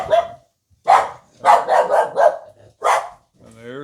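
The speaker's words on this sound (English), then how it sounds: "Yep, she's got to bark at everything." A pet dog barks in a series of sharp, close, loud barks, about five bursts with short gaps, followed by a brief whine at the end.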